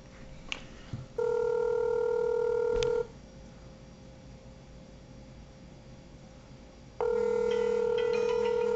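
A cell phone rings through Bluetooth headphones (Bluedio R), giving two long steady electronic ring tones separated by a quiet gap, with a few short dialing blips before, clear and close with no talking.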